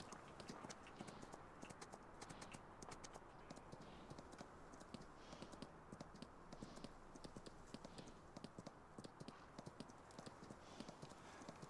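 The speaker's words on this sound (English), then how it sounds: "We're out riding our last horse now" Horse hooves clip-clop steadily as a horse is ridden in Farming Simulator 19, a brisk, even rhythm of sharp hoof strikes that runs throughout at a quiet overall level.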